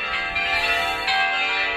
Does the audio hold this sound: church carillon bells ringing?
yes